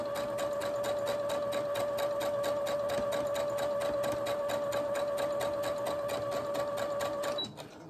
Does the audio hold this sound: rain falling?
no